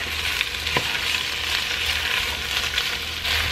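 Steak for bistec ranchero sizzles in a pan with tomato, jalapeño and sauce, a loud continuous frying hiss with a sharp clink of a utensil and light stirring, no voices.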